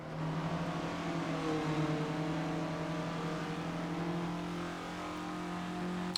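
A 2008 Dacia Logan Cup race car engine revs steadily and loudly up close, a strained, droning tone that holds and wavers slightly as it climbs a hill, with no talking.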